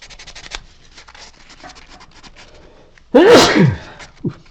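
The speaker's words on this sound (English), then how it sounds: "the requisite sneeze for the session" A single loud, close sneeze bursts out after a stretch of quiet low murmuring, followed by a brief short sniff or exhale.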